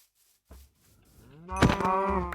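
A loud, drawn-out Minecraft cow moo rises after a few faint rustles, harmonic and sustained for nearly a second, close and clear with no talking.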